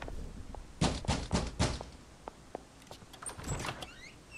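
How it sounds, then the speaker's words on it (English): Fist banging on an apartment door in L.A. Noire, a quick series of about four sharp knocks close by, followed by fainter scattered clicks and thumps. "And bang on the door."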